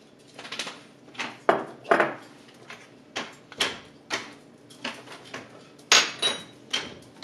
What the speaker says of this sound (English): I'll just grind the salt.